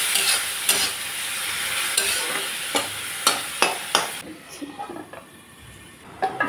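Fish chutney made with dried fish sizzles steadily in a pan while a spatula scrapes and stirs it in several distinct strokes; the frying fades a little near the end and no one speaks.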